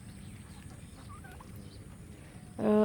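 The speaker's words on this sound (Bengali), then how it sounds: "ভালো লাগতেছে টার্কি মুরগিগুলো দেখতে।" Turkey hens beneath fig trees give faint, scattered clucks over a low background murmur, then one loud, close call right at the end.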